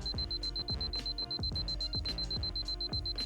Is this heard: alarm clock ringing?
yes